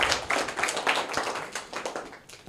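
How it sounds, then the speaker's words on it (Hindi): An audience applauds a correct answer at a quiz, a burst of many hands clapping together at a steady, lively pace for a couple of seconds before tapering off. "जोरदार तालियां"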